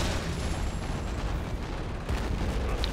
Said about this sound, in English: the explosions from these bombs are awesome, like superb